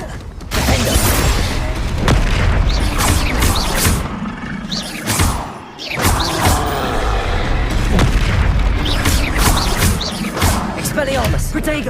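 Confringo curse blasts in the Hogwarts Legacy video game, loud booming explosions and crackling combat effects layered continuously, with brief dips between bursts, with shouted spell voices mixed in.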